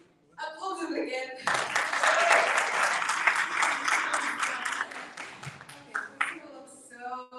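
An audience at a Women's Day event in Casablanca breaks into loud, sustained applause for several seconds, with voices speaking before and as the clapping tapers off.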